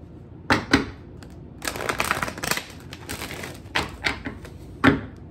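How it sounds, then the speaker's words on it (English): A deck of tarot cards is shuffled close by in quiet bursts of riffling and soft papery slaps, separated by brief pauses, with no talking. "I'm gonna pull some cards from this deck first"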